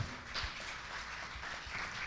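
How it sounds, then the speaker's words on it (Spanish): Church congregation applause, a faint, steady spread of clapping from many hands, heard at a distance with no single claps standing out. "Dale un aplauso al Señor."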